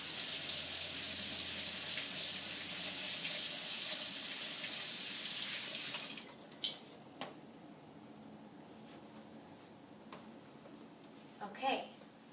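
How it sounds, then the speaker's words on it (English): Tap water runs steadily at a sink for about six seconds while hands are washed, then shuts off, leaving faint drips, small splashes and handling noises. "So first we're going to wash our hands, because before you cook you need to wash your hands."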